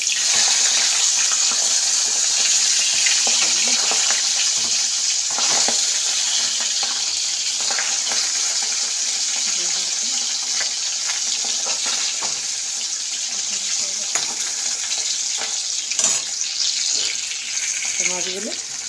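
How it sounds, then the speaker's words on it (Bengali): Tengra fish frying in hot oil: a loud, steady hiss and sizzle runs throughout with small crackles and pops, close by. "এই যে তেলটা গরম হয়ে গেছে, এবার মাছগুলো আমি দেবো"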